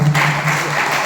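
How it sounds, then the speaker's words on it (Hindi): Audience applause fills a lecture hall, a steady, dense clapping that stays close and fairly loud from start to finish with a low electrical hum underneath. "अरे तालियां तो बजाओ यार"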